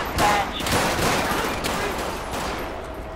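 Dense bursts of rapid gunfire in the video game GTA 5 crackle continuously for a few seconds, loud and close, with shots overlapping into a steady barrage.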